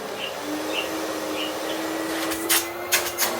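A 1990 Bosch Alpha 32 Premium vacuum cleaner runs on its low setting, a steady hum with a faint tonal whine holding throughout, broken near the end by a few short clattering bumps.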